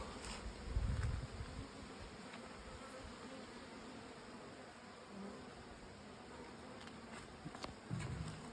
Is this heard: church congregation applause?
no